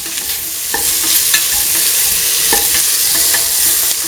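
Salt is stirred into potato and ivy gourd frying in a pan, a steady loud sizzle under intermittent clinks and scrapes of the spoon against the metal.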